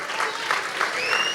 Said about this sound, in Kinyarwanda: Mwabihaye amashyi.